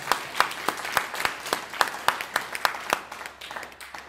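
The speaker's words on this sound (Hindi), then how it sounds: "एक बार दिल खोल के उनके लिए सम्मान ताली हो जाए" A small group applauds during a talk, a sparse, evenly paced clatter of claps fading toward the end.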